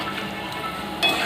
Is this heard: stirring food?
yes